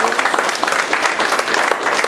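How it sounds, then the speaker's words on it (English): Audience applauding a campaign opponent at a police swearing-in ceremony, dense close clapping from many hands, steady and loud throughout. "I want to give a round of applause to my opponent"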